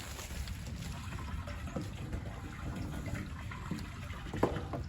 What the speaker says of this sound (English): Let me go get the water hose hooked up for them.